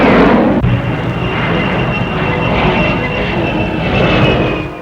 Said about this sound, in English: the de Havilland 108 jet plane supplies a postscript to a story of our progress by flying